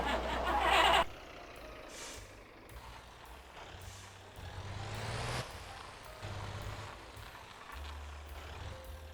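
A cement truck in the driving game Motor Town opens with a loud hiss of air brakes, then its engine rumbles and revs in a low drone with a few rising surges.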